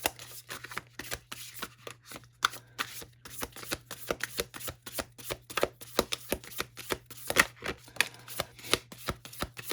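Tarot cards are shuffled close up in a steady run of rhythmic riffling pulses and snaps, with cards drawn between bursts and no talking.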